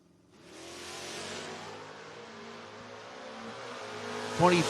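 A Plymouth Barracuda and a Chevrolet Camaro launching in a footbrake drag race, engines swelling into a loud sustained roar from a distance, and a voice calling out near the end.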